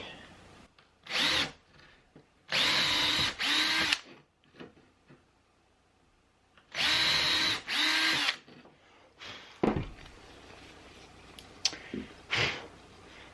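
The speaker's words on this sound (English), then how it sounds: "I want to do some pre-drilling real quick." A power drill pre-drills into wood for a French cleat, two bursts of high whirring spin-up and run-down, each about a second or two long, separated by quiet handling noises and a few clunks.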